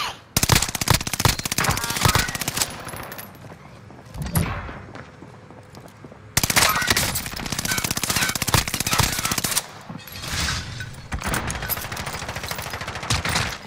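A turret in a video game fires long rapid bursts, loud and dense, broken by short pauses and quieter stretches of distant shots.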